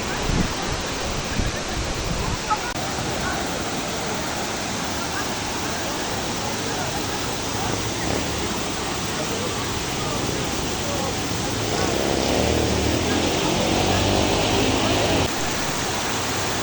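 Tumalog Falls in Oslob, Cebu, gives off a steady, dense rush of falling water that fills the whole clip and swells a little louder near the end.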